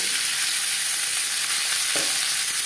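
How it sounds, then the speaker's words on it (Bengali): Papaya pieces frying in hot refined oil give a steady, close hiss of sizzling with a brief stirring scrape near the end; no voices. "তেল গরম হয়ে গেছে, এবার দিয়ে দেবো পেঁপে। পেঁপে আমি হালকা করে ভেজে নেব।"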